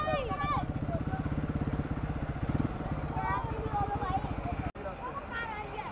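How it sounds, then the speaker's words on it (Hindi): A motorcycle arriving at a motorsport scrutiny event idles and revs with a rapid, steady engine putter throughout. Lively chatter and voices sit on top of it, and a sharp click cuts in near the end. "वाह वाह वाह वाह, बढ़िया बढ़िया बाइक आ गई है।"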